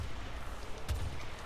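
Gunfire in the video game Warframe, a single low boom-like shot standing out briefly over a steady game background.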